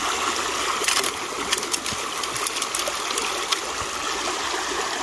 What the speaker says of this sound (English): So far, I like the water flow.